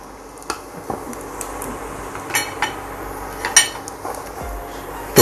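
Bacon and dried chili stir-fried in a pan, with a utensil clinking and scraping against the metal in scattered sharp taps over a steady sizzling hiss, no talk.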